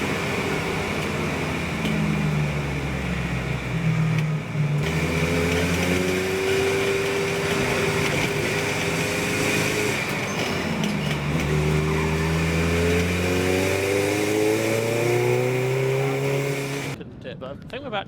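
Race cars at the Anglesey Coastal Club Enduro drone steadily with engines climbing in pitch as they accelerate away, while commentary voices talk over the continuous engine noise.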